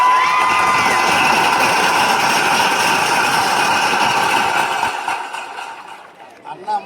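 A large crowd applauds and cheers at a stage performance by a Telangana singer at Osmania; the clapping and shouting stay loud and continuous, then fade away over the final couple of seconds.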